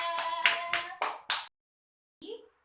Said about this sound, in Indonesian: Dan tepuk tangan untuk Milta Amalia